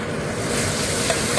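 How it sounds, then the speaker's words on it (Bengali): Garlic sizzles loudly in refined oil with onion paste while being stirred for a prawn malai curry, a dense, continuous frying hiss up close with no talking. "রসুনটা একটু লাল লাল ভাজা হয়ে যাবে"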